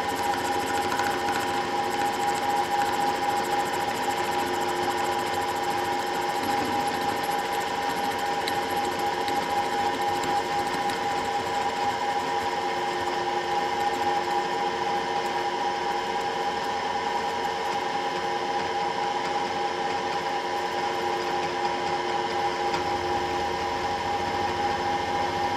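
A steady mechanical whirring hum of a machine boring out a KTM carburetor body, running continuously, with a faint shift in tone near the end as the cut ends.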